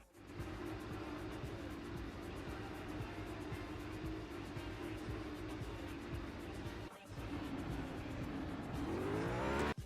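A race car engine roars steadily in the Real Racing 3 mobile game, a loud sustained drone with shifting pitch, a brief drop near the end of the run, then rising revs as the car accelerates.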